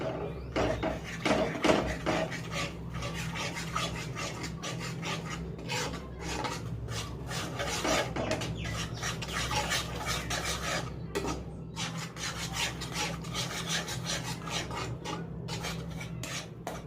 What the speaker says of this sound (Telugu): ఇది కూడా ఉండలు లేకుండా మొత్తం కలుపుకోవాలి.